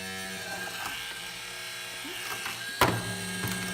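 A home theater unit's cooling fan starts and runs with a steady electrical hum and whirring mechanical drone, joined by a brief sharp clack near the end as the motor noise carries on.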